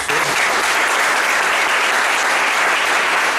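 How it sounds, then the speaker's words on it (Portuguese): Audience applause for a professor after an economics lecture in Brazil, a dense steady wash of many hands clapping at close range that fills the whole stretch without talk. "a primeira salva de palmas, professor"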